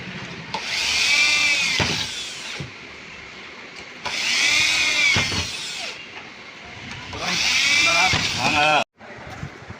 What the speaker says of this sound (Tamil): ட்ரில்லர் வச்சு ஓட்டையை போட்டு